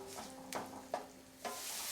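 Masala paste sautéed on medium heat for Bengali prawn curry: a soft continuous sizzle broken by three brief scraping stirs of a spoon against the pan, quiet and close, with no talk.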